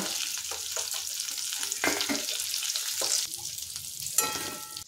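Banana flower koftas sizzle and crackle in hot oil, a continuous frying hiss broken by brief stirring clatters and a few sharper pops near the end.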